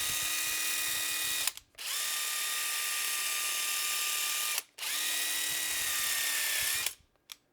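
An Anex offset adapter spins a nut along threaded rod under power, giving a steady high mechanical whine in three runs: a brief tail at the start, then two long stretches split by short stops, loud and close.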